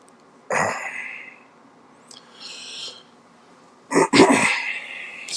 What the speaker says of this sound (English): So if you hear me coughing, just bear with me for a little bit.